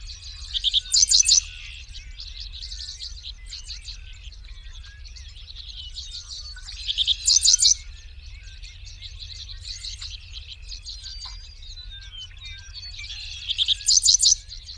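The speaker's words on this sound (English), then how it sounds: "the next one is a juvenile. Dick Sissel. Dick Sissel. Okay. Yes. And he's going to play it." Recorded song of a juvenile Dickcissel, a sparrow-sized bird, plays as repeated bursts of buzzy, high chirping phrases every few seconds over a continuous low hum.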